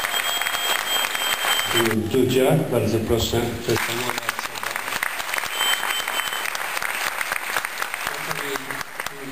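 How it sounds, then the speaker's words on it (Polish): An audience at a meeting with Paralympians from the Vancouver 2010 Games applauds warmly, a continuous dense clatter of hands that runs throughout while a voice speaks briefly over it. "Wielkie brawa!"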